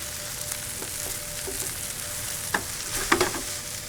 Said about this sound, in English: almost toast the rice while it's in this pan